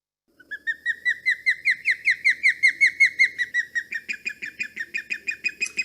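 Near, loud bird call at a summer lake: a long series of about twenty rapid, evenly spaced whistled notes, rising and falling slightly, with no talk.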